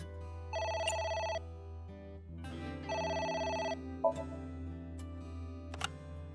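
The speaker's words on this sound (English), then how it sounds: "It's the phone. Maybe try picking it up?" A telephone rings in the game AI: The Somnium Files, two bursts of a trilling electronic ring separated by a pause, over a low, quiet background hum.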